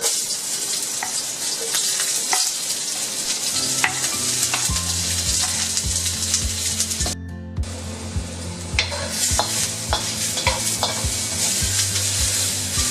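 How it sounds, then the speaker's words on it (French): Onion, garlic and ginger frying in oil in a wok for shrimp chop suey, a loud continuous sizzle with stirring scrapes and a low background hum, close up. "On va d'abord commencer par faire revenir l'oignon, l'ail et le gingembre avec un peu d'huile."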